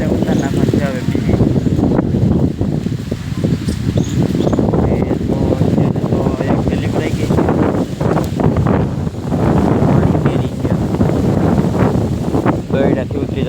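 Strong outdoor wind buffets the microphone in a continuous loud, low rumble that swells and dips, with voices partly audible beneath the roar.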